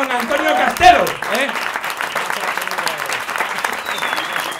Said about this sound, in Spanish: Un aplauso para Salomón.